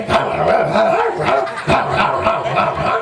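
A dog barks in short repeated yips and bow-wows through a lively Tamil village stage drama, loud and close, mixed with busy background noise and some voices.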